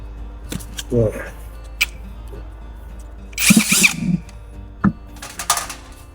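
A Masaru power drill whirs in short bursts while removing hex bolts from a chainsaw cylinder during repair, close and intermittent between brief pauses, with someone speaking Thai around it.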